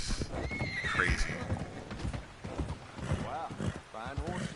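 A horse in Red Dead Redemption 2 gives a loud neigh and whinnies while its hooves clip-clop close by, with someone talking underneath.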